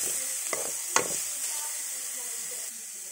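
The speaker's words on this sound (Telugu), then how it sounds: "ఇప్పుడు ఇందులోకి తరిగి పెట్టుకున్న క్యారెట్ వేసుకోండి. బాగా మిక్స్ చేసుకోండి ఈ మిశ్రమాన్ని." Chopped carrots stirred into fried onions and chillies in hot oil, a steady sizzle throughout with a couple of sharp spoon scrapes against the pan early on.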